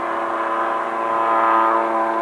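A 1/3 scale Fokker D7 model plane with a 3.7 Q65 two-stroke engine drones steadily in flight at a scale-model contest, its buzzing tone holding even and fairly loud throughout.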